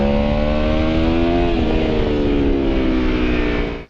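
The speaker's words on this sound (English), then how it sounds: "It has a very nice sound that will make you smile every time you roll the throttle." Aprilia Tuono V4 1100 Factory motorcycle engine revving loudly and steadily, its pitch climbing and sweeping through harmonics before cutting off abruptly at the end.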